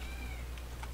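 A single drawn-out, faint meow from a cat rises and falls over a constant low hum, with a couple of brief higher chirps toward the end.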